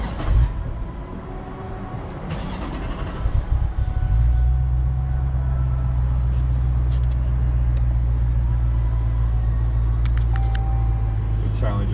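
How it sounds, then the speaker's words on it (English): A 2022 Dodge Challenger Scat Pack Widebody, 485 horsepower, cranks hard for a few seconds and then settles into a loud, steady low rumble that fills the rest of the stretch, with no talk over it. "The Challenger is having a real hard time starting up"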